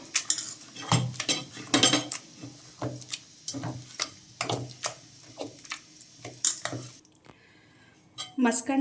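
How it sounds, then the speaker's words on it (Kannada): Repeated metal-on-pot clanks and scraping as a utensil mashes cooked lentils in a pot, irregular strokes, close and fairly loud. "ಈಗ ಇದನ್ನು ಚೆನ್ನಾಗಿ ಮ್ಯಾಶ್ ಮಾಡ್ಕೋಬೇಕು"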